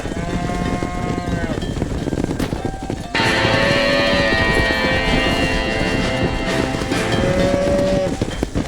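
Cattle herd in Red Dead Redemption lowing loudly and repeatedly, several drawn-out moos overlapping across a ranch soundscape with faint hoof clatter beneath.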